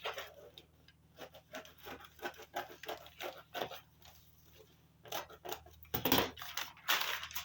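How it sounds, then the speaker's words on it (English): Scissors snip repeatedly through fabric while cutting out a gown collar, in quick, uneven bursts, with crisp shearing crunches close by and rustling between cuts. "Then I'll use my scissors to cut it out."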